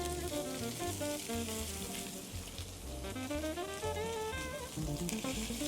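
Chicken pieces and vegetables sizzling loudly in a hot pan, a steady close crackling fry with no talking, musical tones playing underneath.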